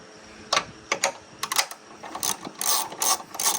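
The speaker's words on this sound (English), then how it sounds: "Right now I'm removing the 10mm bolt that holds the wiper transmission down" Ratchet wrench clicking in short bursts as a 10mm bolt holding down the wiper transmission on a 2008 Kia Sportage is backed out, close and crisp, with pauses between strokes and no talking.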